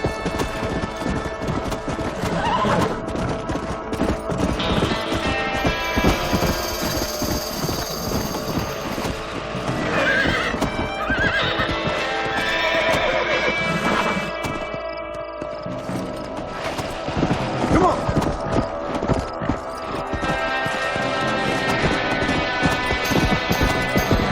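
Galloping horse hooves pound rhythmically in Red Dead Redemption, mixed with mechanical game sounds and clattering, continuous and fairly loud throughout.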